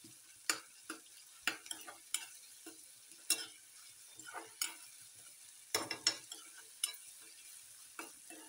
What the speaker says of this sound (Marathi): कांदा चांगला भाजू द्यायचा.